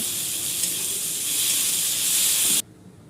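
Spices and chopped onion fry for a mutton curry with a loud, steady sizzle and hiss that runs unbroken, then cuts off abruptly near the end, with no talk.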